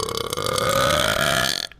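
A man lets out a long, loud, drawn-out burp while playing a video game, a single continuous belch lasting over a second and a half before cutting off, with no talk over it.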